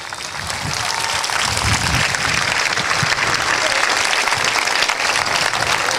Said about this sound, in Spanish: Démosle un aplauso a esos pastores